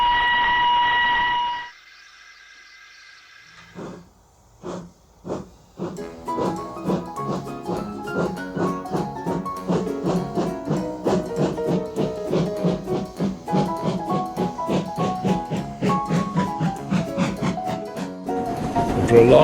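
A toy-like story train pulled by Thomas the Tank Engine starts after a brief silence and runs on, its steady rhythmic clatter of wheels on rails building to a loud, continuous chugging with repeated beats, with no talk over it.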